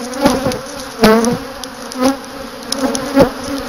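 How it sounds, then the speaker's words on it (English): Honey bees buzz around a beekeeper opening a hive during a spring brood check, their close, droning hum swelling in repeated bursts as individual bees fly past. "Bees are all over me right now."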